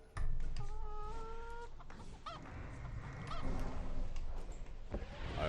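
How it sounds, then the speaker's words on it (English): Cartoonish little chicken sound in a competitive video game match: a short squawking honk with rising tonal clucks, set among busy in-game effects and low rumbling clatter. "That little chicken sound is always good."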